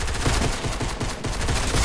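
Rapid automatic fire from a spray weapon in an online shooter video game comes as a dense, loud, unbroken burst of shots with no pauses for the whole moment.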